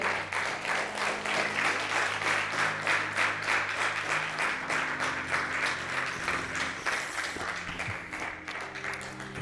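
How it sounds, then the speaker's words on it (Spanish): A church congregation claps in a steady, even rhythm for several seconds, with sustained musical tones held underneath. The applause is fairly distant and stays consistent throughout. "Dele un aplauso al Señor."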